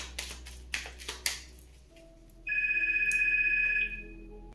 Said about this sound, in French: Alors c'est peut-être significatif cette sonnerie de téléphone